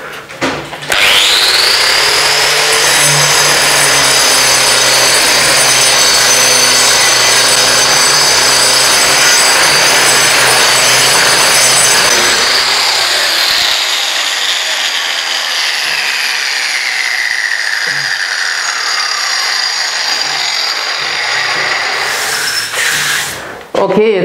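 Power tool chiseling ceramic bathroom wall tiles off during a bathroom renovation, a loud continuous rattling roar lasting nearly the whole stretch with a dip partway, close by and without speech.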